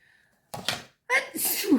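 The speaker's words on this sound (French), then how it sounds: "Je fais que ça d'éternuer" A single sharp sneeze bursts out after a brief quiet pause, close and loud, with a quick breathy follow-through.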